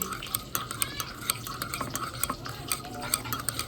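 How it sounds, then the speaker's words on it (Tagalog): A sauce seasoned with salt and sugar is stirred in a pan, a spoon scraping and clinking against the metal in a quick, steady rhythm of close taps over a faint sizzle. "Tapos haluin natin."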